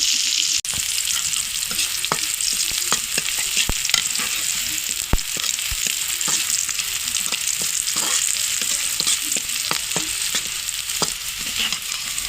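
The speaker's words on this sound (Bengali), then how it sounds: "তেলের মধ্যে আমি এই পেঁয়াজ কুচি দিয়ে দিচ্ছি, একটু ভাজা করে নেব" Chopped onion fries in hot oil for a teasel gourd curry: a steady, close sizzle runs throughout, broken by sharp clicks and scrapes of stirring, with no voices.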